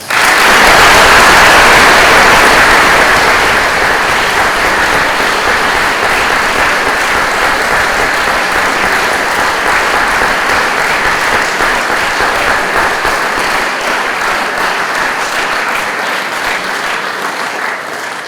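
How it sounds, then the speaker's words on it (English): An audience at a fall term opening ceremony in a hall applauds for a long stretch, loud and sustained at first and then slowly tapering off. "Let's please give them all a round of applause."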